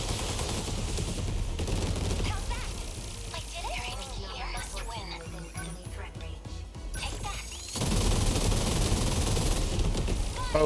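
Multi-rocket launchers fire in the mech battle game 13 Sentinels: Aegis Rim, a dense barrage of rapid booms and crackling blasts that thins midway under voices and game chatter, then swells back loud near the end.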